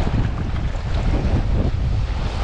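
Steady loud wind buffeting the microphone out on open water during a catfish (bullhead) fishing trip, a constant rushing roar with faint water and boat sounds beneath and no talking.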